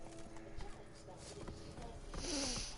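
A horse gallops in The Witcher 3 video game, with steady clip-clop hoofbeats under a voice speaking over them.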